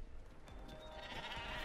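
Sheep bleating in the Ratchet & Clank PS4 remaster, faint wavering cries from several animals layered over quiet game ambience.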